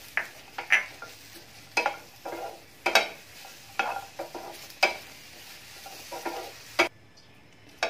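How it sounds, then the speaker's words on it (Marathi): Garlic and curry leaves sauté in hot oil for a green chilli thecha, a soft sizzle under repeated sharp clinks and scrapes of a spatula stirring the pan, close by and without speech, ending in quiet. "हे लसूण आणि आपण कढीपत्ता टाकलेला तो 1 मिनिटच फक्त परतून घ्यायचा"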